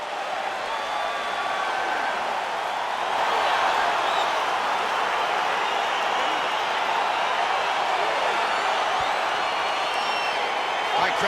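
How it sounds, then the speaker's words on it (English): A dense arena crowd in the UFC 4 fighting game roars steadily throughout, swelling slightly partway through with scattered whoops, a broad continuous wash of cheering and murmur. "crowd getting excited as this fight gets underway"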